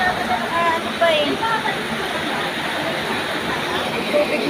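Typhoon floodwater rushing steadily through a flooded hillside neighborhood, a continuous broadband roar like a waterfall, fairly loud and unbroken, with faint voices in the background.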